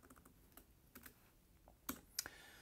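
Typing on a computer keyboard, a scatter of light irregular keystrokes with a couple of sharper clicks near the end, close and fairly quiet with no talk.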